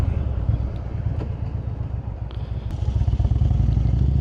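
A motorcycle rolling into the Warrenton Cemetery in Warrenton, Virginia, its engine a steady low loping rumble heard close up with light clatter and wind, continuous and without speech.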